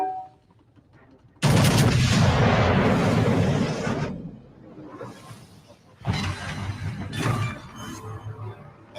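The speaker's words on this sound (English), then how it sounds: "Enemy battleship destroyed." Naval gunfire from a video game battle as an enemy battleship is destroyed: a loud sustained burst of explosive firing and blasts, a pause, then a second rumbling barrage, with no speech.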